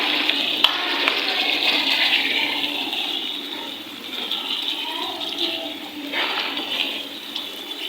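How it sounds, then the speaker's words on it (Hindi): Water pours into a mutton karahi in a steady, loud gushing rush that rises and falls over several seconds, close up and with no talk. "तो अब इसमें डालने लगी हूँ मैं पानी"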